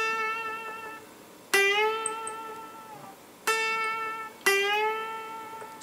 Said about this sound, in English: we're going to bend a whole tone.